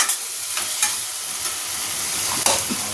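Potato and pointed gourd fry with spices in a pan, giving a constant close sizzle. Occasional scraping clicks of stirring break through it.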